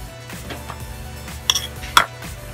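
Metal clinks against a dish as baking soda is mixed for a homemade teeth-whitening paste, with soft scraping stirs and two sharp clinks close by, and no talking.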